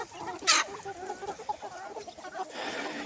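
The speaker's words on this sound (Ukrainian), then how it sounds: "І ось курочки, фаверольки." Faverolles chickens cluck and murmur close by in a soft, uneven chatter, with a brief sharp scratchy rustle near the start.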